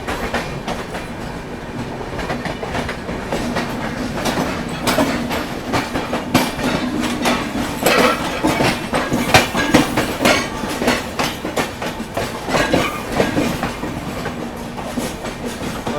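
An Indian express train, the Goa Sampark Kranti, runs on rails with steady rumble and rhythmic clickety-clack as another train passes alongside, the wheel beats growing denser and louder midway before easing.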